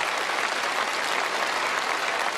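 A studio audience claps loudly and steadily, a dense, even wash of applause lasting the whole moment with no talk over it.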